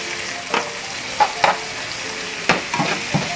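Pork spleen seasoned with Italian seasoning fries in a pan under a constant soft sizzle, broken by several distinct scraping knocks as the pieces are turned.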